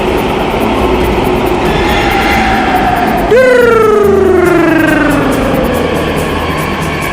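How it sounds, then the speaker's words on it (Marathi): A loud, steady Pune metro train rumble with a rising then gliding electric whine as it accelerates or brakes nearby; no talking. "ही पुण्यामध्ये मेट्रो चालली आहे"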